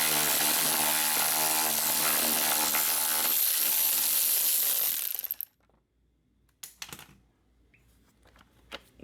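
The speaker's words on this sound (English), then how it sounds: "So now let's remove this bolt so we can remove this" Loud, rapid whirring and rattling from a power tool works a bolt on a 2008 Mercedes GL320 front bumper cover, cutting off abruptly. A few sharp metallic clicks and knocks follow against near silence.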